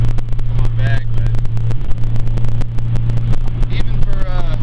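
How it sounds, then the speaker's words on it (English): A 1991 Honda Civic SI with a swapped ZC engine drives along a road, its steady engine drone and road rumble filling the cabin as it runs through the gears, with faint voices underneath. "we're just letting you listen to it. Hear them shift through the gears a little bit."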